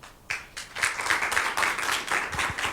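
An audience at a university teacher-training event applauds a professor and her collaborators, with dense, steady clapping from many hands at moderate loudness, sustained throughout with no speech over it.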